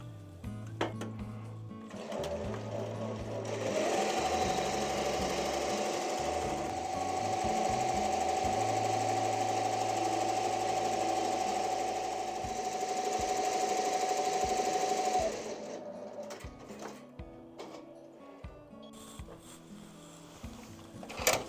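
An embroidery machine stitches a turkey patch design with a rapid, steady mechanical chatter that runs loud and close for about eleven seconds, framed by quieter stop-start clicking and handling noises before and after.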